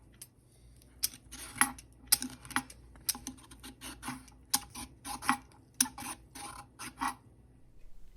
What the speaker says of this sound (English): Carefully peeling carrots with supervision